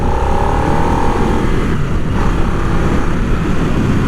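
A Harley-Davidson Nightster motorcycle in sports mode drones steadily while riding, a loud continuous engine note with wind rush and a slight rising pitch, close and without speech.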